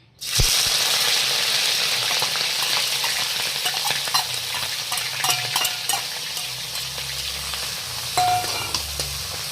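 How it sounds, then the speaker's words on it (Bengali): Dried fish fries in hot oil with a loud, steady sizzle, and a utensil scrapes and stirs against the pan at intervals throughout, with no talking. "এবার তেলটা আমার গরম হয়ে গেছে এবার শুটকি মাছটা এটা দিয়ে দেওয়া দিব"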